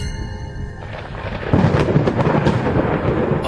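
Cartoon thunder rolls in ahead of rain, a deep rumble swelling to a louder, dense crash that fills the scene on its own, with no voices.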